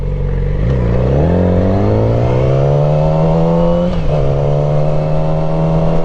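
A Yamaha R6 motorcycle engine drones loud and steady while riding, its pitch climbing smoothly through a long rev, dipping briefly at a gear change, then holding strong, with no speech.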